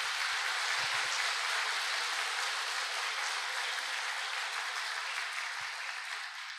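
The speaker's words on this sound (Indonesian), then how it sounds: "kita kasih tepuk tangan yang paling meriah untuk upline-upline kita semua" An indoor audience claps together in a dense, continuous wash of applause that holds steady and fades slightly toward the end, with no voices over it.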